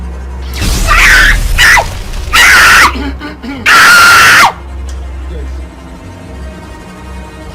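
A woman lets out several loud, piercing screams in bursts, the longest a sustained shriek, separated by short gaps, in a dramatic family film scene, followed by quieter background after the last one.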